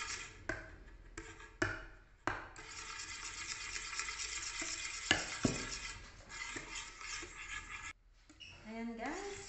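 Bread cake batter stirred with flour by hand in a bowl, with a steady scraping swirl punctuated by sharper knocks of the utensil, under occasional talk.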